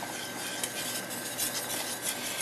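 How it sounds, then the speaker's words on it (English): Whisk stirring carrot casserole ingredients in a bowl, a steady close scraping swish that runs without pause and no one speaking. "we're going to give it a whisk"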